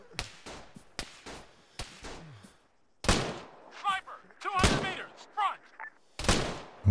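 Gunshots in the military game ArmA 3, several sharp cracks early on, then louder bursts of fire mixed with voices talking over them.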